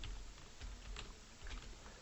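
Someone types on a computer keyboard at a Linux terminal, a close run of quick, uneven key clicks and thocks over roughly two seconds.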